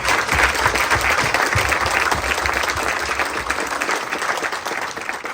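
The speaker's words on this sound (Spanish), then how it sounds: "Un aplauso a nuestro Santo Padre." Applause at a church novena for San Nicolás de Bari, a dense crowd clapping steadily for about five seconds and slowly easing off toward the end.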